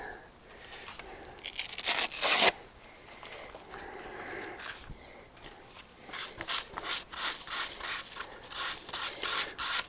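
Hand sanding of resin on a guitar body with sandpaper, a close dry scratchy rasp in repeated strokes, with a loud burst early on and steady back-and-forth rubbing through the rest.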